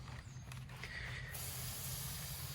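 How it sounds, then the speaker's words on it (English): A steady hiss of spray, broad and close, with a low rumbling hum beneath it and a brief brighter burst partway through. "carefully spray it down"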